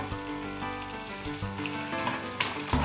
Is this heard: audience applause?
no